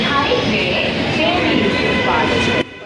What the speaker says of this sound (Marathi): हे आपले रेल्वे. तर आता ही आपली कन्याकुमारीची रेल्वे